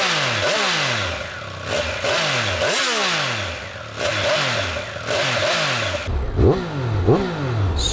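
A Triumph Speed Triple RR sport motorcycle engine revs repeatedly in sharp bursts, each rise in pitch falling back to idle, loud and close, with no talking.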